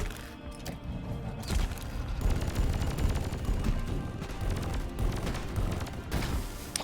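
Rapid gunfire from a weapon fitted with the volatile bullets overclock in the video game Deep Rock Galactic, loud dense bursts of shots and impacts running almost continuously, with a brief lull near the end.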